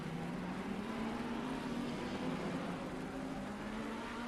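GT3 race cars, including a Bentley, a Ferrari and a Lamborghini, lap Misano in Assetto Corsa Competizione with a steady, loud, droning engine note. The tone rises slightly as they accelerate, and no voices are heard.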